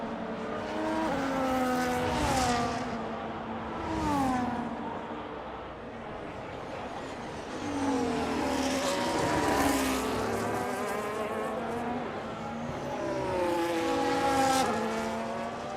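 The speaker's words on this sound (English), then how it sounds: "McLaren just carries too much speed around the Miami Internazionale Autodrome." F1 race cars in the video game F1 25 scream around the Miami circuit: high whining engines rise and fall in pitch through gear changes, several cars passing in waves, loud and continuous.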